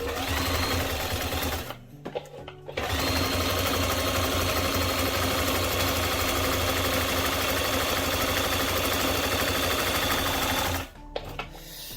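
An Omnia M120 sewing machine stitches a zigzag seam, its needle running in a loud, steady mechanical chatter that stops briefly twice before resuming.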